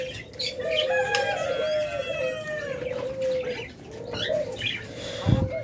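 Doves kept for breeding coo in low, drawn-out tones, mixed with other bird chirps and clucks nearby, steady and moderately close.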